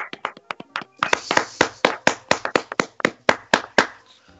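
A few people clap for Bastián González, a guest joining a football talk show about Chile's third division: sparse, irregular claps build into a steadier, louder rhythm of individual hand strikes, then fade.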